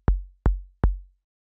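Three synthesized small kick drums with a fast pitch envelope thump in an even rhythm, each a short punchy low hit with a clicky start that decays quickly, heard alone.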